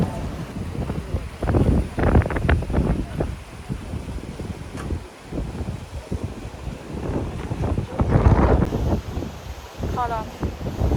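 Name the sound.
wind at the seaside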